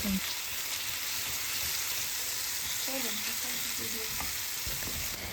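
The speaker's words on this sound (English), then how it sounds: "The chicken is sizzling so much." Chicken sizzles and crackles in a hot pan for stir fry noodles, a close and constant frying hiss with faint stirring and a brief murmur of voice underneath.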